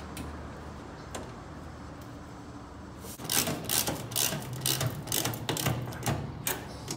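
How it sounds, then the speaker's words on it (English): A ratchet tightens bolts on a school bus roof during a conversion: quiet rumble at first, then a rapid run of sharp clicking strokes that continues to the end. "These bolts will pull it down quite a ways."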